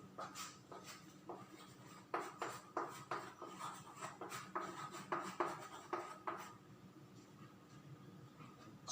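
Chalk or marker writing on a board during a physics lesson on friction, faint rapid scratchy strokes in bursts, with quiet room noise and no talk.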